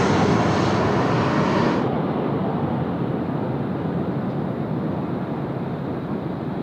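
Qantas airliner roaring on its takeoff run from Sydney Airport, a loud, steady jet-engine rumble that stays strong and constant throughout, with no talk over it.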